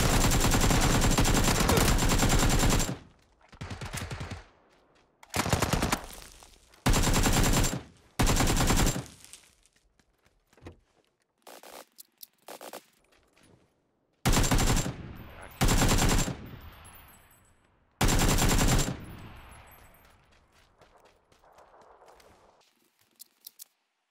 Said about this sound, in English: I got shot at.